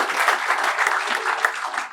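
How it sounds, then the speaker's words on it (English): Brief audience applause in a San Francisco sales panel room, a light, even patter of clapping from a modest crowd, steady for two seconds without much swell. "Round of applause from the leaders who have people reporting to them in the house."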